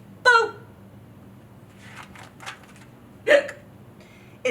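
Hiccups from someone with the hiccups sound in a quiet room: two sharp, distinct hiccups about three seconds apart, with faint rustling and small noises between them.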